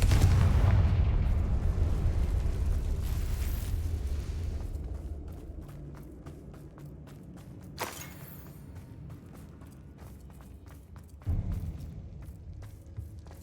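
Confringo fire spell exploding in Hogwarts Legacy, a heavy booming blast with a long rumbling decay, followed by scattered crackles and a couple of smaller thuds as it fades.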